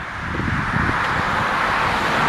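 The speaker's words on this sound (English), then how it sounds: "You can hear some of the traffic behind me" Busy street traffic on Beech Daly Road in Redford Township, a steady loud broadband rush of passing cars with wind noise, continuous and close throughout.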